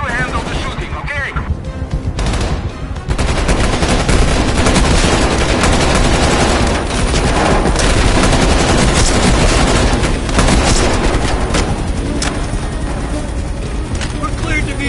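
Heavy, continuous gunfire rattles during a helicopter flight in a video game, loud rapid bursts layered over a rotor drone, with voices talking throughout.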